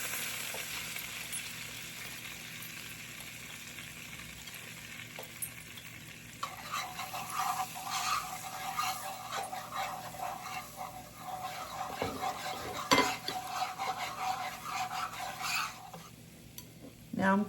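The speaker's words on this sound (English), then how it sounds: "So we're gonna start off with the melted butter. And I'm going to whisk in flour." A whisk scrapes and stirs flour into melted butter in a pan, with a steady soft swishing that grows busier and louder partway through, close by, with faint background hiss.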